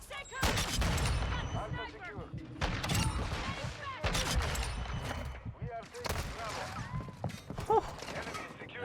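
Bursts of automatic gunfire from the video game Modern Warfare 2 come in several rapid volleys with brief pauses, loud and close, with some mechanical clatter and faint talk mixed in.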